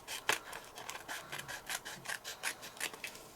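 Excess paper trimmed away while making a handmade shaker card, a quick series of rhythmic rasping strokes, close and fairly quiet, with no voices.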